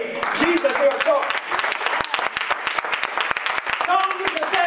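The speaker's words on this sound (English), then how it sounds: "I dare you to clap your hands if you made Jesus your choice." Church congregation clapping along during a sermon, rhythmic sharp handclaps mixed with voices and cheering, fairly loud and close for a few seconds.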